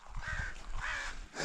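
A crow gives repeated harsh caws as an alarm call, two drawn-out calls close by and fairly loud, over low rumbling outdoor noise near a river.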